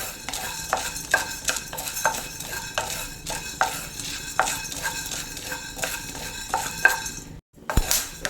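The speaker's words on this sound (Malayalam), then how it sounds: "കുരുമുളകും എല്ലാം പൊട്ടാൻ തുടങ്ങിയിട്ടുണ്ട്" Black peppercorns dry-roasting in a pan for Kerala-style rasam powder, with repeated scraping and stirring strokes and light rattling of the spices against the metal, steady and close, broken by a short pause near the end.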